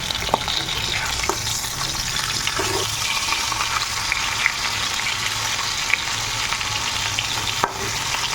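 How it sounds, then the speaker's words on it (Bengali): Steady oil sizzling and spattering as fish heads fry slowly over low heat in a pan, close and continuous, with a few clinks of a utensil. "মাছের মাথাগুলো ভালো করে ভেজে নিলাম"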